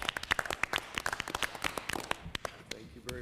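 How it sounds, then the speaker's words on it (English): Applause for two retiring public servants at a village council meeting: scattered hand claps from a modest crowd, fairly close and irregular, thinning out toward the end with a brief voice at the close. "Can we have a round of applause for our 2 public servants?"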